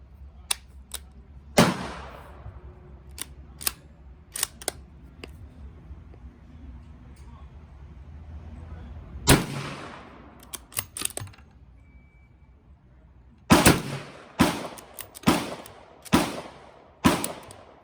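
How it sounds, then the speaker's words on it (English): Unsuppressed .357 Magnum rounds from a Ruger 77/357 bolt-action rifle: loud, sharp outdoor shots spaced several seconds apart, ending in a quicker string of five cracks, with faint echo trailing each. "So now be 5 rounds of unsuppressed 357 Magnum."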